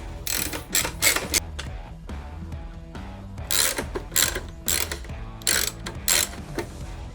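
Ratcheting bursts of a hand wrench come in quick repeated clusters while old hardware is taken off a Harley-Davidson Softail Low Rider S motorcycle, close and crisp with short metallic clicks between pauses.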